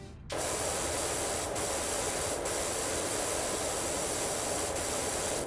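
Water spraying from a nozzle, a loud steady hiss that starts abruptly and runs continuously, with brief bursts of stronger spray along the way.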